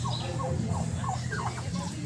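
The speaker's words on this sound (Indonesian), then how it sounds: "Ayam kalkun." Turkeys gobbling in quick warbling bursts, several calls overlapping close by above a steady low background rumble.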